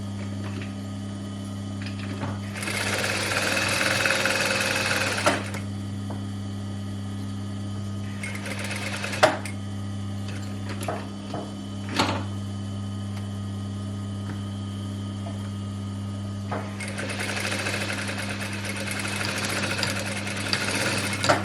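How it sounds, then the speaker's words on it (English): A sewing machine stitching a Pipit vest runs in three separate bursts of rapid whirring, with pauses between them, over a constant low electrical hum. "I'm just going to put my needle down and pivot and continue sewing along"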